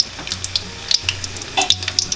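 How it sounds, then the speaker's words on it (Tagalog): Garlic frying in boiling cooking oil while peanuts are cooked, a loud close sizzle with sharp crackling pops and a low bubbling churn underneath. "kumulo na po yung mantika"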